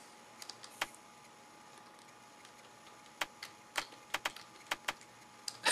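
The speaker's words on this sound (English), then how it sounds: "I'm just typing random letters here." Scattered keystrokes on a computer keyboard, tapped sparsely and irregularly close by over a quiet background hum, with no speech.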